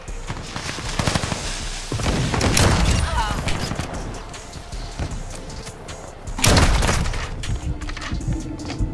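Sniper rifle shots crack in a video game over a busy mix of game noise, with several sharp reports, the loudest a heavy boom near the end. People talk through much of it.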